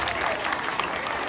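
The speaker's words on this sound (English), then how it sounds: "Let's have a big round of applause for all of our Corny helpers." Audience applause at a live stage show, a brief burst of dense, steady clapping from a crowd, fairly loud and continuous with no talking over it.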